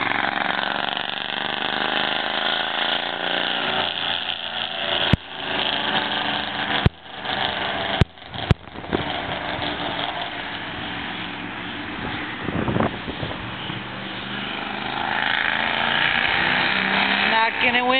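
Small Bandolero race car engine accelerating down the front stretch of a track, a buzzy, lawnmower-like drone heard from a distance with sharp clicks, under ongoing commentary from people talking.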